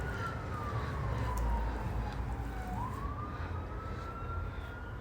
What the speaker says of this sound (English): I didn't want you guys to hear the siren.